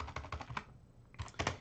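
Quick, quiet clicks of typing on a computer keyboard, a short burst of several keystrokes, a brief gap, then another small flurry.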